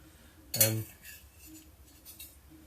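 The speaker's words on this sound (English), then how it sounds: "test them with the back of a spoon" A metal spoon knocks once against a pan of soft cheese mixture for shortbread cookies, a sharp close clink followed by faint scraping and quiet kitchen handling.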